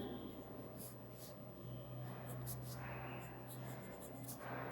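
A math sentence being written on a board in a Class 8 lesson, a faint continuous scratch of the marker or chalk with a low steady hum underneath.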